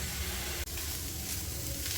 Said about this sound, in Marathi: बेसन पण चांगलं परतून घेऊया.